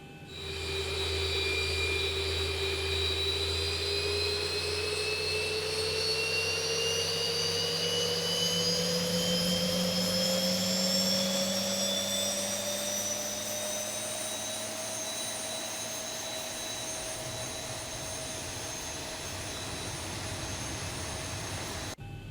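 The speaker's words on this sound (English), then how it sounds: "So we'll go ahead and start engine number 2." Jet airliner engine spooling up in the X-Plane 11 flight simulator, a steady loud roar with a high turbine whine that rises slowly in pitch throughout, continuous and close with no talking.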